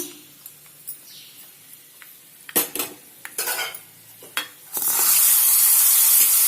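A garlic and turmeric tempering being mixed with a spoon: several sharp metal clanks against the pan, then a loud, sustained sizzle as it is poured into spinach dal and hisses to the end.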